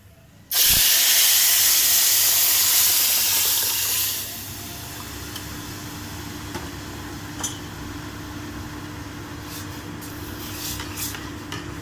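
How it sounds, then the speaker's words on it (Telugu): Palakura pappu, spinach dal with tamarind juice, sizzles with a loud sharp hiss as it hits the pot, then settles after a few seconds into a quieter steady simmer, with no talking. "ఇంకా ఈ పప్పు ఇందులో వేసుకొని కొంచెం బాయిల్ చేసుకుందాము."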